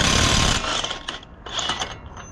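Ratcheting and clicking of a 36 mm socket on the front hub nut of a 2005 Ford F-150 during brake work, close and fairly loud metallic mechanism sounds in short bursts with brief pauses.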